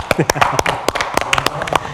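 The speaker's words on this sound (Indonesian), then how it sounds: "Oke, tepuk tangan dulu dong." Scattered, uneven hand claps from a small studio audience on a televised health talk show, sharp and fairly close, with voices talking alongside for about two seconds.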